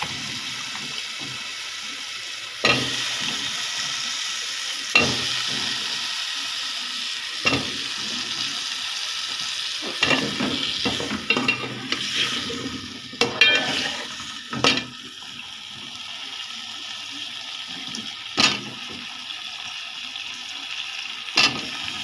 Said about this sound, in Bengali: এই তো মশলাটা কষানো শেষ, মিষ্টি কুমড়াটা দিয়ে দিব।